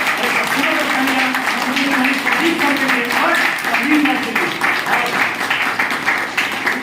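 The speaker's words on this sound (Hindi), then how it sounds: "एक बार मैं जबरदस्त तालियां चाहता हूँ अपने गुरु श्री संजीव सर के लिए" Applause for a guru at an open business meeting in Gurgaon, a steady wash of crowd clapping running continuously throughout, with a voice talking underneath it.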